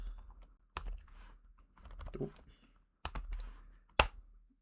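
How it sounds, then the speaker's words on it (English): Keys clack in short bursts on a new computer keyboard during a My Time at Sandrock game session, close and fairly quiet, with a person murmuring briefly between the clusters of typing. "Rather new keyboard, so I'm not used to it yet."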